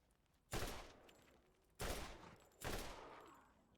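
Blue rifle firing in Borderlands, three sharp loud bursts of gunfire spaced about a second apart, each blast decaying with a short rumble.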